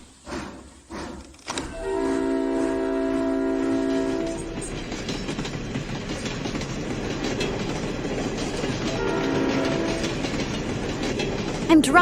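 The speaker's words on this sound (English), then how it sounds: "I'm really driving a train." Steam train running along rails, with a loud steady rolling rumble and wheel clatter and a sustained horn-like whistle blast near the start and again later, no voices.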